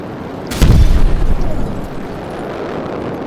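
A single heavy boom from a missile strike in the War Wings aerial combat video game, a loud burst at the start that rolls into a long, dense rumble of battle noise.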